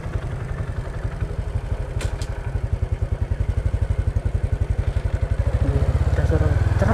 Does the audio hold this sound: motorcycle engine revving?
yes